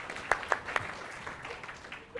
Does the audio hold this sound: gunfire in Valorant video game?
no